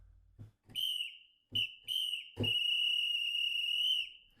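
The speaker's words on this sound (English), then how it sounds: "The power whistle." A power whistle gives several loud, shrill short blasts, then one long sustained blast holding a steady pitch before cutting off.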